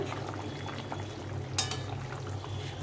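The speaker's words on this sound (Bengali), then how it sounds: "ঝোলটা ফুটে গেছে" Fish curry gravy with potato and eggplant bubbling at a boil in a pot, a steady close simmering hiss and burble throughout, with one brief brighter splash partway through.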